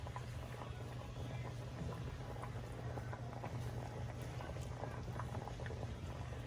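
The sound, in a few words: water boiling in a pot with lobster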